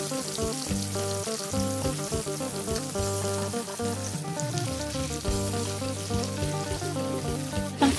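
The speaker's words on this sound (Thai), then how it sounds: "พอน้ำมันเดือดแล้วก็นำหมูที่เราเตรียมไว้ลงไปทอด" Steady loud sizzling of fermented pork ribs frying in hot oil in a pan, a continuous crackling hiss throughout with no talking.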